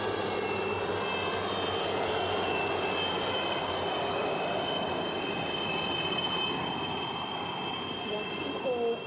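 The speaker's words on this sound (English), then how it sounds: "Watching all as 40 helicopters execute this synchronized tribute" A squadron of 40 police helicopters flying over in a synchronized aerial salute at a Mauritius National Day celebration gives a continuous loud engine roar with whining tones, steady throughout, with a voice talking over it.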